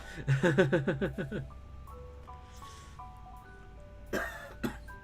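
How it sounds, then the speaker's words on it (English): A burst of rapid, harsh coughs close by, about a dozen in quick succession, then quiet hum, followed by two softer throat-clearing sounds near the end. "I'm so glad the cough is better than it was yesterday"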